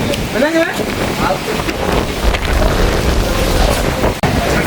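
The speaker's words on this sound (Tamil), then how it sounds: "மழையும் வந்து இப்போ பெய்ய ஒழிக்கிட்டுது" Rain starts to fall during a storm at Keerimalai, Sri Lanka, pattering over a low rumbling background while wind buffets the microphone, with a few faint voices in the distance.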